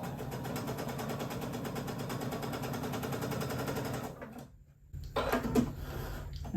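A sewing machine stitches quilt-as-you-go blocks together with a fast, even mechanical rattle that stops abruptly, then a few brief clunks and handling noises follow, close and fairly quiet.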